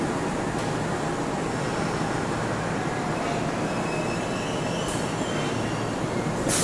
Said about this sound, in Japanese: 1本目はこちらの電車です。